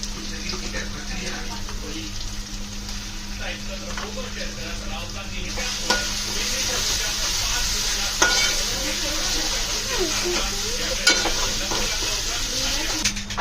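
A ground paste of ginger, garlic, onion and coconut frying in a pan for egg curry, a steady close sizzle with occasional spoon clinks and stirring scrapes, a voice speaking briefly.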